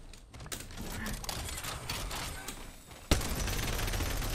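Rapid gunfire rattles in a first-person shooter, quick dense bursts under excited talk, then a sharper louder volley kicks in near the end.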